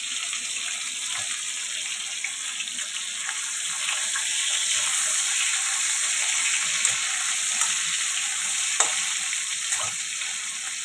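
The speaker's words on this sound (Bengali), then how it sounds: "ভাতে আমি বিনস বিনস সিদ্ধ দিয়েছি, বিনস। ভাত হচ্ছে।" Rice and beans boiling together in a pot make a continuous close bubbling hiss with a steady, even texture and occasional small pops, heard alone without talk.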